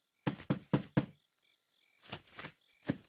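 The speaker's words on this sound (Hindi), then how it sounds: "सुनो, फिर से कोई खटखटा रहा है" Someone knocks on a door: a quick set of four sharp raps, a pause, then three more softer knocks, close and dry with no talking.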